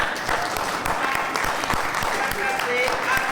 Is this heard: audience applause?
yes